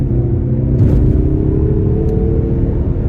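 A 2021 Mazda3 AWD turbo engine pulls steadily under acceleration, a loud, close, continuous low rumble and whir from inside the car with a rising tone and no talking.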